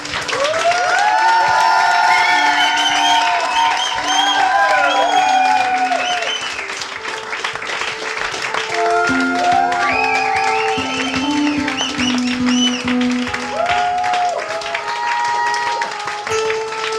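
A crowd cheers and applauds loudly to welcome a band for its final concert at El Alamein, sustained clapping with whoops and whistles rising and falling over the whole stretch.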